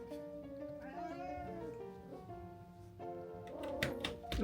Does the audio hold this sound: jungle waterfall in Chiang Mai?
no